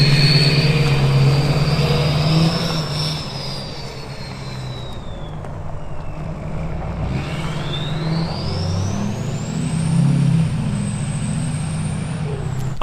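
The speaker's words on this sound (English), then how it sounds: "the Stealth 64 on those LBZ sounds so orgasmic, it never gets old" Diesel pickup with an LBZ engine and Stealth 64 turbo pulls away, turbo whistle rising and falling over a steady engine rumble, moderately loud and fading somewhat, with no talking.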